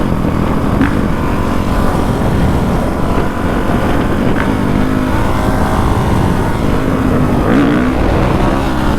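A 450 dirt bike engine runs steadily while riding through Chicago, a continuous loud drone with wind rush and no clear pauses, no talking.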